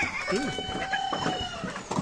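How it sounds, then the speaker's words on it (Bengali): Fayoumi chickens and roosters feeding on a mix of wheat bran and maize meal, clucking and calling close by in quick overlapping bursts, with faint talk in the background. "এই যে মোরগ মুরগি সব এর মধ্যে আছে, সবই এভাবে খাচ্ছে।"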